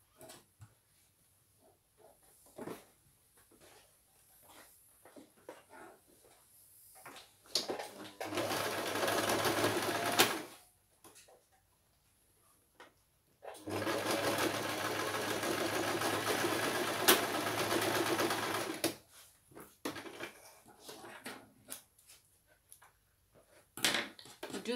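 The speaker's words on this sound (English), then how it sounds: "So I'm going to sew and secure it." Sewing machine stitching hoodie fabric runs in two long steady whirring passes, each lasting several seconds, with short stops, handling clicks and fabric rustle between them.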